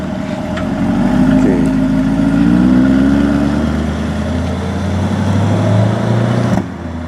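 A new C8 Corvette pulls away, its engine note rising and holding steady as it drives off nearby, fairly loud and alone with no talking, then cutting away near the end.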